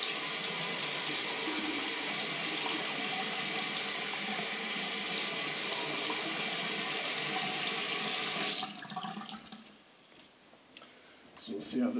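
A bathroom tap runs in a steady, close hiss of water for several seconds while a face is wetted, then shuts off, leaving quiet splashes and small handling sounds.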